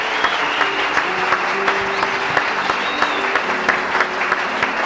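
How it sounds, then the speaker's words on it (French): A church congregation applauds during a sermon, with steady, sustained clapping from many hands filling the room and faint voices mixed in. "Acclamons le Seigneur Jésus."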